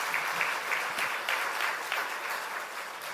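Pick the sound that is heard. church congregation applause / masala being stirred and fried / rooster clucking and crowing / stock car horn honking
church congregation applause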